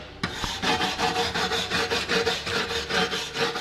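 A wire brush scrubs welds on the frame of a Peterbilt 352 cabover truck, with rapid, rhythmic back-and-forth rasping strokes, loud and close, continuing without talk after a sharp initial contact.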